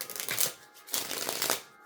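Tarot cards are shuffled by hand in two bursts of crisp riffling and flapping, close and moderately loud, with a short pause between them and no talk.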